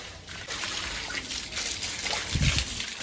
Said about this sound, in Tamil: மோட்ரு போட்டு விட்டேன், பைப்பில் வந்து தண்ணி வருது